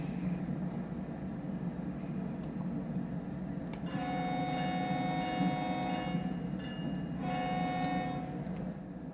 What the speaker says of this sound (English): Nice noisy train